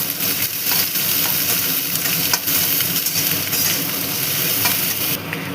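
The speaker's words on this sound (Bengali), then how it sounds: "এবার ভালো করে ভেজে নেব।" Chopped onions fry in hot oil for a dhaba-style Bengali egg tadka, giving a steady, loud, close sizzle with light stirring scrapes throughout and no talk.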